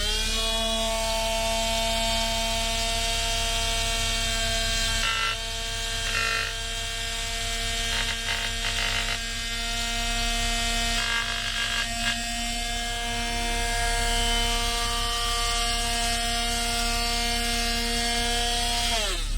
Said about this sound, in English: let's get to it with the multi-tool for a little while